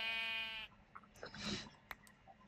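Sheep bleating in Minecraft: one long, loud wavering bleat that cuts off sharply, followed by softer scattered game noises.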